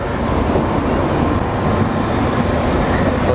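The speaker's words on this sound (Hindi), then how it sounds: "मुंबई नई दिल्ली दुरंतो एक्सप्रेस" Mumbai–New Delhi Duronto Express train passing close by at a station on Indian Railways, a loud, steady broadband rumble of rolling wagons and wheels throughout with no talk.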